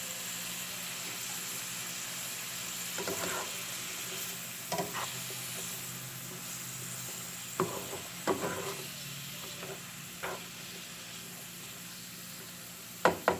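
Food tossed in a hot pan gives a soft, steady sizzle with scattered scraping and clinking hits as the pan is shaken, fairly quiet and close with no talking.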